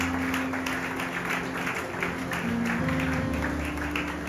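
Steady, sustained applause from a church congregation, a continuous wash of many hands clapping at moderate level throughout, with a faint organ or keyboard tone underneath.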